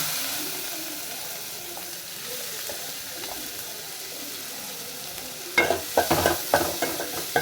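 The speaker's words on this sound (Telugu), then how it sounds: "ఇప్పుడు ఇందులోకి ముందుగా కట్ చేసి పెట్టుకున్న ఆనియన్స్ వేసుకుంటున్నాను" Chopped onions frying with cloves, cinnamon and cumin in a hot pan, a soft continuous sizzle at first, then a burst of louder stirring scrapes and clatter near the end.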